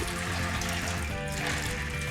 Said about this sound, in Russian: Пересыпаем и заливаем водой.